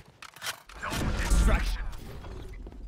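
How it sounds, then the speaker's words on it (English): Weapon reload in Valorant, a short run of mechanical clicks and a metallic clack building to a louder, bassy middle section, with game sounds around it. "Reloading."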